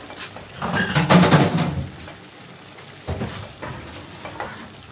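Afghani mutton with peas sizzling and being stirred in a pan, a loud burst of frying and scraping early on, then quieter sizzling with a few lighter stirring scrapes.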